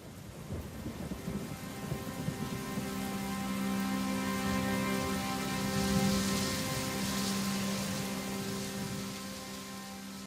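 Steady rain falls in a continuous wash, with a rumble of thunder building and swelling through the middle before easing, no voices present.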